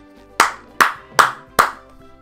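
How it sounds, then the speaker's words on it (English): Four sharp hand claps, evenly spaced and close by, each one ringing briefly in a quiet room. "I'm gonna clap every time you do something dumb like that."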